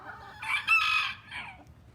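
Chicken clucks and crows at a zoo, a mid-distance rooster-like call rising and holding for about a second before trailing off, heard alone over quiet background.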